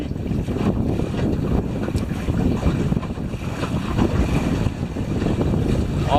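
Sailboat cruising at about 4.5 knots under sail, with steady broadband rush of wind and water hissing along the hull, continuous and fairly loud throughout with microphone wind buffeting.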